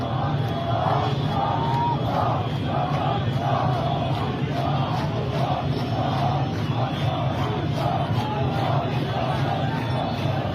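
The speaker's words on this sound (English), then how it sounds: "another unhappy crowd that was actually yelling Javid Shah, which means long live the Shah in Persian" Protest crowd in Tehran chanting a rhythmic slogan in unison, a dense and loud mass of voices with repeated chant beats running throughout.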